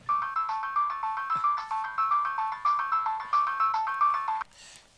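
A mobile phone ringtone rings loudly and close, a repeating bright electronic melody pulsing for several seconds before stopping abruptly, followed by a brief rustle.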